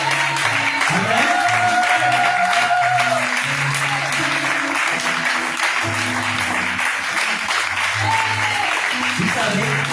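A church congregation applauds and cheers for God in a dense, continuous burst that lasts the whole time, while a voice speaks over the clapping.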